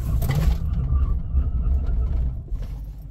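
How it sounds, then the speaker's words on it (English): A Dodge Charger Scat Pack brakes hard from 60 mph, a loud low rumble of road and engine noise that gradually eases off toward the end. "Let's do a hard brake test from 60 miles an hour and see what it gets"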